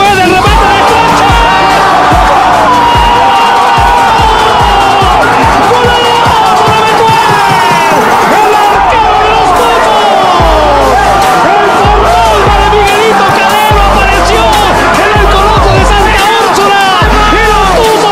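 A large stadium crowd at a football match shouts, chants and cheers continuously, a dense roar of many voices rising and swelling throughout with whoops over the din.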